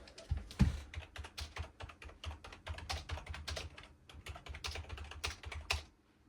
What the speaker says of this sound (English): I'm going to go ahead and just type it in chat for you